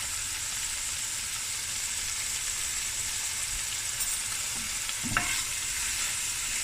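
Ginger frying in a pot, stirred steadily with a constant hiss and sizzle throughout and a brief clatter of a spoon near the end, close up with no talking.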